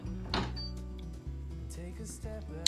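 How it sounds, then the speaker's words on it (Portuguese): A home embroidery machine starting up after play is pressed, whirring motor tones that shift in pitch as the hoop adjusts, with mechanical clicks and brief stops before stitching begins. "aquilo que nós fazemos é calcar no play, ele automaticamente vai ajustar e começar a costurar"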